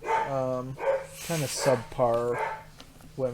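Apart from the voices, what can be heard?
dogs barking in the house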